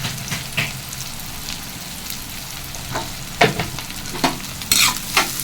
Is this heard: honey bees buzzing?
no